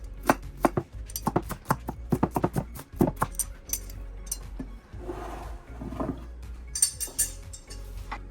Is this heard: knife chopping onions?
yes